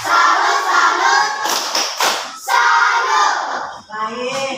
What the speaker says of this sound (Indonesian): Tepuk salut untuk Messi.